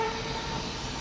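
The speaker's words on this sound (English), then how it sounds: "That was a train." A passing train rumbles steadily with broad low-end noise and a faint tonal horn-like whine, loud and continuous for a brief second with no voices.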